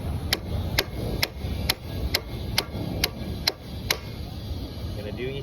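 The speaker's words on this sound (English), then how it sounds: "We're just gonna smash it with this hammer to simulate those impacts" A hammer repeatedly strikes the pins and rollers of the BattleBots robot Riptide in the pits, about eleven sharp, evenly spaced metallic hits over a low background hum, close and clear.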